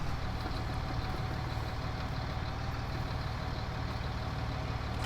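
Tractor engine idling in a farming survival roleplay video game, a steady mid-low rumble with a constant pulse, close and unbroken, with no voices.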